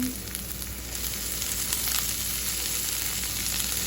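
Spinach tossed into a pan with onions and mushrooms that are already browning gives a steady, close sizzle with faint stirring scrapes, and no one speaks over it.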